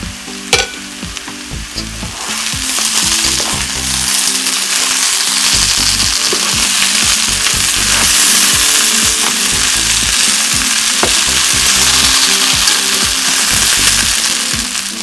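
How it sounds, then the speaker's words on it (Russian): Potatoes, first boiled in their skins, frying with onion in a pan, a loud continuous sizzle with scraping stirs and clinks of the utensil throughout, no voices. "картошка, отваренная сначала в мундирах, а потом обжаренная"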